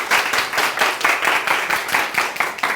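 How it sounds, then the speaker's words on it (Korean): Classmates in a high school classroom clap for a student after her presentation, a steady burst of many hands applauding close by for nearly three seconds. "다윤이에게 박수 주세요"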